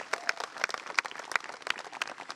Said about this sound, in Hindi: जोरदार तालियों के साथ इनका भी स्वागत करें